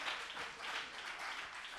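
Applause from a studio audience at a French-language televised contest final for best presenter, dense sustained clapping rolling on steadily, moderately loud and without voices.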